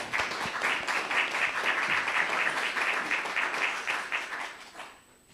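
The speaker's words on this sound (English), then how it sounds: "Can we give Prof a round of applause" A conference audience claps for a professor's talk, a dense and fairly soft patter of hands lasting about five seconds before tapering off at the end.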